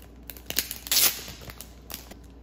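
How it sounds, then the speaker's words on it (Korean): Plastic wrap is torn open by hand in a newly rented apartment, giving scattered crinkles and rips with one louder tearing burst in the middle, close up and without speech. "방금 비닐 뜯었어요."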